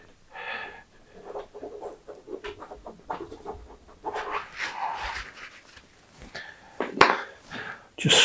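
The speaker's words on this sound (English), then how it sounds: "Excuse the horrible scraping noise." Palette knife scraping paint across canvas, close and rough, in irregular scratchy strokes of varying length with brief pauses between them.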